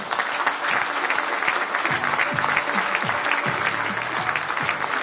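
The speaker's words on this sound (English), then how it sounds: "Ladies and gentlemen, a round of applause for Mr." An audience at an investment summit applauds as a company founder is called to the stage, with steady crowd clapping and a faint voice or tones underneath.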